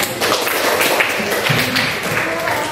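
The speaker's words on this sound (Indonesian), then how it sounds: "Oke, tepuk tangan ya" A class of students in an Indonesian teacher-training session claps hands together, a close, continuous patter of many claps with light tapping, steady from start to end.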